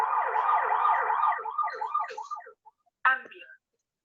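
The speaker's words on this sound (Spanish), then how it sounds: "aquí tenemos la ambulancia." Ambulance siren played from a picture card, a loud wailing tone for about two and a half seconds that fades out, then a short burst of siren after a brief pause.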